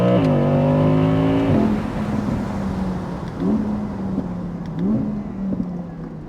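Audi R8 V10 Performance Spyder engine, a loud rising rev that drops to a steady idle, followed by a few short throttle blips, heard close up.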